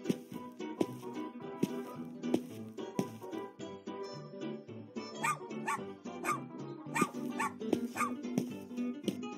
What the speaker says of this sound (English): how dare you to bark at me